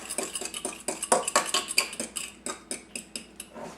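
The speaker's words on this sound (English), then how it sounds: "I'm whisking that a bit" A whisk clinks steadily against a bowl while beating egg wash seasoned with salt and pepper, a close, quick run of light metallic ticks with no talking.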